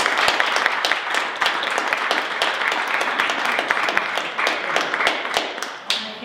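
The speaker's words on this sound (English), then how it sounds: "a round of applause" A round of applause at a school board meeting, steady clapping from a modest crowd of hands with sharp individual claps standing out, sustained for several seconds.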